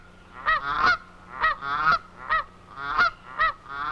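A flock of dusky geese honks repeatedly as it flies low over hunting decoys, with loud, close calls coming in several clusters throughout.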